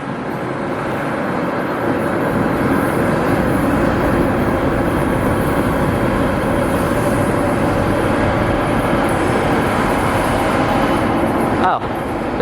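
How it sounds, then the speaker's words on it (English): A train rumbles past at close range on its way toward LA, a loud, sustained roar of wheels and cars rolling by, steady for most of its length with a brief shift near the end; voices are present underneath. "Oh, this isn't even our train."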